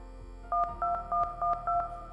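A telephone in a video game sounds a series of five short dialing tones, evenly spaced beeps with faint low background sounds beneath.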